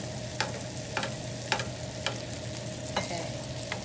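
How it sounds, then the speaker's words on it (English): Salmon sizzling in a tilted pan while basted with brown butter and thyme, a steady loud frying hiss with regular spoon scoops about every half second, close and without talk. "Tilt the pan, and again, just give it a little brown butter bath."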